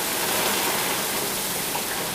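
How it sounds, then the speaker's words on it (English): Heavy rain pours down in a dense, constant hiss that never lets up. "it's pouring down outside."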